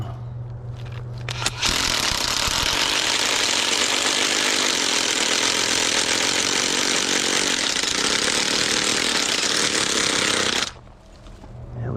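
An engine-powered ground drill starts up and runs loud and steady for about nine seconds close by, then cuts out, with no talk over it.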